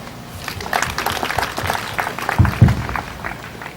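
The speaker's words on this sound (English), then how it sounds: "We will clap for them." An audience at a high school policy launch event claps for the teachers, a scattered round of applause rising and swelling with a few louder, closer claps near the end.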